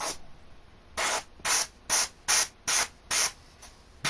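Six short, even bursts of pump spray hiss applied to a beard, each about a quarter-second long, evenly spaced over a faint background hiss.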